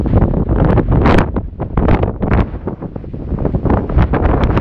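Strong wind buffeting a microphone on an open hilltop, loud rumbling gusts that rise and fall continuously with no voices.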